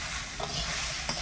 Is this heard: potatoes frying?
yes